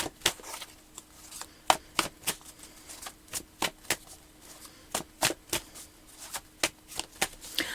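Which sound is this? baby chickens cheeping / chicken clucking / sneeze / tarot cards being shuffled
tarot cards being shuffled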